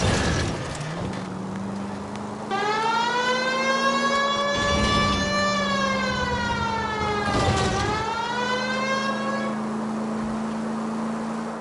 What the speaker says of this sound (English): Turn on the siren.